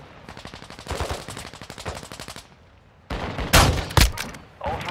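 Gunfire in Call of Duty DMZ: a steady, rapid automatic burst runs for about two and a half seconds, then a short lull, then louder, heavier shots and bursts crack close by.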